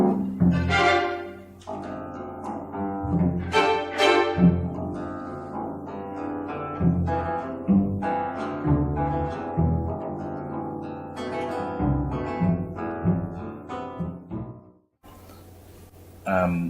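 Fast finger-plucked bass strings on a plucked string instrument. A dense run of quick notes continues close and clear for about fifteen seconds, breaks off briefly, then picks up again.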